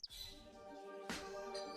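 Robin birdsong: faint, quick chirps and tweets over a soft, steady background, with one brighter call near the end.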